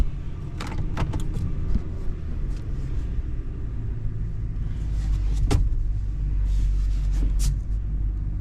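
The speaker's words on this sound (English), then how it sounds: "Get that plow up in the air." A snow plow is raised on an idling truck, heard as a steady low engine rumble with a few sharp clunks and clicks scattered on top, close by and with no talking.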